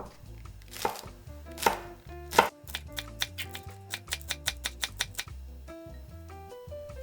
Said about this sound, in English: Next, finely chop 1 green onion.